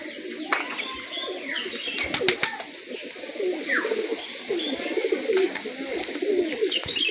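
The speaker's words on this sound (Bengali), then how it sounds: "একটা সাদা গিরেবাজ পায়রা দেখুন।" Several white Giribaz tumbler pigeons coo continuously at moderate volume in a loft, with low throaty cooing throughout, occasional sharp clacks and faint chirps.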